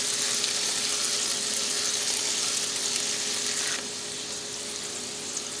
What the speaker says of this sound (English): I'm starting to smell the aroma from those mushrooms cooking already